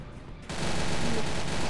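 Gunfire in the mobile shooter Point Blank Mobile begins after a short quieter moment and becomes a dense, continuous burst that fills the rest of this very short stretch.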